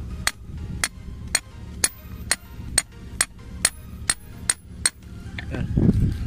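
Steady hammer blows ring out on a metal grounding rod being driven into the ground, about nine evenly spaced sharp clanks, followed by a brief rustle of movement.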